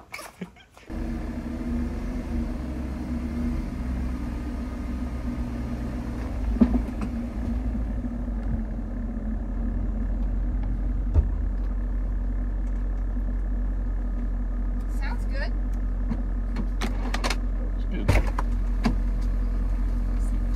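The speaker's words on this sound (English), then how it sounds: "I'll move my car." A parked car's engine starts with a brief burst, then runs as a steady low drone for about twenty seconds while the car is moved. A few faint knocks and clicks sit above the hum, with no talking.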